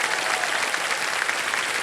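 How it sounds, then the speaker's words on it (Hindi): A studio audience on a TV quiz show gives a welcome to arriving guests with brief, steady, dense applause, loud and continuous with no voices. "तालियों के साथ इनका स्वागत"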